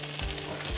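Potatoes sizzle steadily in a breakfast skillet right after being flipped, a close, even frying hiss with a faint hum underneath and no voices.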